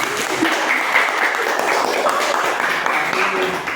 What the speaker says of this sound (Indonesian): Berikan tepuk tangan, berikan tepuk tangan.